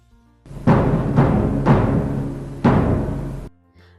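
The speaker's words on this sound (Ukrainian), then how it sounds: "Цей гучний звук це звук барабану" Four loud, booming drum hits at irregular intervals, each resonating and decaying, close and heavy.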